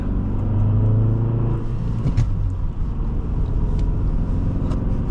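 A 2008 Nissan Altima 2.5 S sedan with a six-speed manual gearbox accelerating, heard from inside as a loud steady engine drone and road rumble with a rising tone early on.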